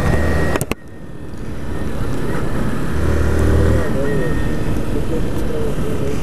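Honda CG 160 Fan 2022 motorcycle engine running with a passenger aboard, a steady droning hum that swells slightly mid-ride, with a brief bump near the start.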